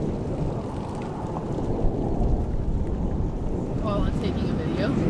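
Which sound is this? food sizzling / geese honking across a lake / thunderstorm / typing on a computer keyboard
thunderstorm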